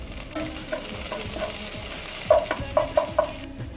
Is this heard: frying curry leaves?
yes